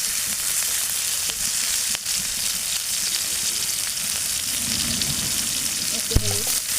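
Onion and chili fry in hot oil with water lily stems for a stir-fry, a steady close sizzle with a few stirring scrapes and a sharp clank near the end.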